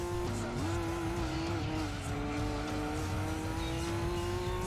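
In the video game Gran Turismo 2, racing car engines drone steadily with a rising pitch, along with faint tire noise, as cars approach from behind. The sound is continuous and fairly close.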